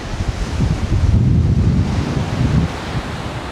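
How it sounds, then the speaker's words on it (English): Sea waves breaking at Prasonisi beach on Rhodes, Greece, where the Aegean meets the Mediterranean, a continuous loud roar of surf mixed with heavy wind buffeting the microphone. "Look at the waves."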